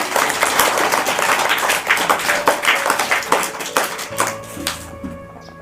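A classroom of children claps for a student, a dense run of quick hand claps that fades out near the end as a faint steady tone comes in.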